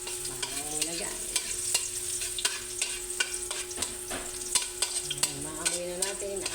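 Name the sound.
garlic sautéing in a pan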